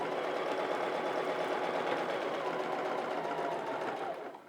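A sewing machine running continuously while machine quilting a travel stitch, a steady close whirring hum that holds level and eases off at the very end.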